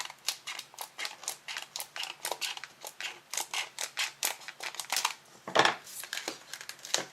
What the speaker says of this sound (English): then just cutting off the very edge of the packaging.